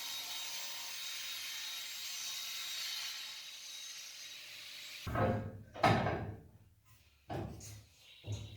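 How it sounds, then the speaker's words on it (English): A table saw rips a 20 cm strip from a Baltic birch plywood sheet: a steady whining cut fades out, followed by several loud close bursts of wood scraping and knocking as the piece is handled. "I start by ripping a 20 cm strip off a Baltic birch plywood sheet."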